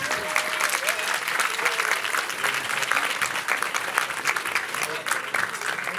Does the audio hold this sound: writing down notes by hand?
no